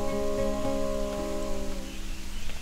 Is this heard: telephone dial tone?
no